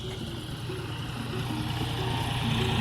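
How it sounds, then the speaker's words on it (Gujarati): A tractor approaching in a village, its engine rumbling steadily and growing slightly louder over a low hum of background noise. "જો આવે છે ટ્રેક્ટર"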